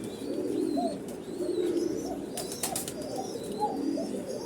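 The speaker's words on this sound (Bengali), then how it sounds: "এটা কোকা কবুতরের বাচ্চা" A koka pigeon coos in soft, low repeated calls close by, several burbling coos in a loose rhythm over a quiet background with faint higher chirps.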